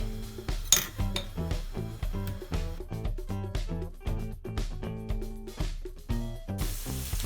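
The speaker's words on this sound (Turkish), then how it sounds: "soğanımızı doğramaya başlıyoruz" Quick, steady knife chops through onion on a cutting board with light clinks, repeating in a regular rhythm over soft background music.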